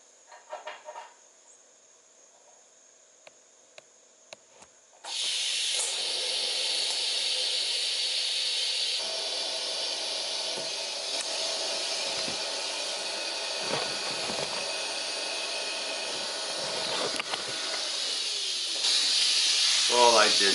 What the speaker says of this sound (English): I'll do a little, couple little tack welds here